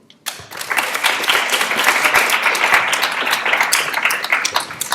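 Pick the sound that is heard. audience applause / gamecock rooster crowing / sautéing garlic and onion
audience applause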